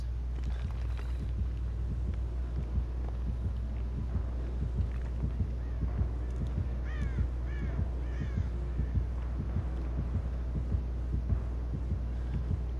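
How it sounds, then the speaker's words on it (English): A heartbeat in the horror game Dead by Daylight throbs steadily in a low, repeating rhythm throughout, with a few crow-like caws and game ambience above it. "I was hearing a heartbeat and I was scared."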